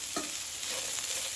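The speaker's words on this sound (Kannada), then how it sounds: "ಅವರೆಕಾಯನ್ನು ಸ್ವಲ್ಪ ಇದರಲ್ಲಿ ಈರುಳ್ಳಿ ಜೊತೆಗೆ ಫ್ರೈ ಮಾಡ್ಕೊಳ್ಬೇಕು." Field beans frying with onion in a pan give a steady close sizzle, with a brief scrape of stirring near the start.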